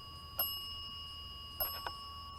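An EMF spirit candle's bell alarm in a cemetery gives three short, bright rings, two close together after a pause, over a thin constant electronic whine.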